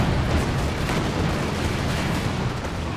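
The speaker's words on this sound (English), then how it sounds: "Got the land mattress coming in now though." Land Mattress rocket artillery barrage in Company of Heroes 2, a dense, continuous rumble of rocket impacts and explosions, loud and sustained with no clear gaps throughout.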